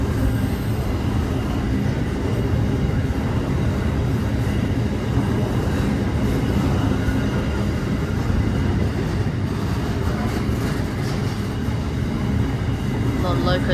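A long freight train hauled by several locomotives rolls past Penshurst station in a continuous dense rumble of wheels and wagons, steady and loud throughout, with faint squeals late on.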